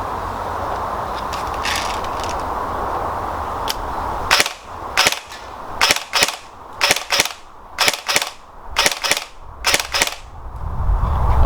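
An Ares G36C airsoft gun fires single shots: about a dozen sharp, loud cracks at irregular intervals, some in quick pairs, after a stretch of steady background hiss.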